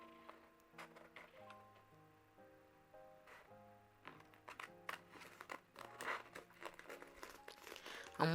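Paper being cut out with scissors for an art portfolio, with soft snips and crinkling rustles that come intermittently and fairly quiet, while a piano-like tune plays throughout in the background.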